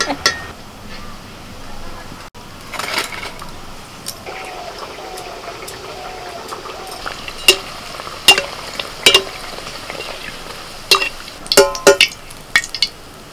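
Sattu kachuris deep-frying in hot oil, a continuous broadband sizzle throughout, with sharp clinks and scrapes of a metal ladle and pan stirring them, growing busier and louder toward the end; no talk.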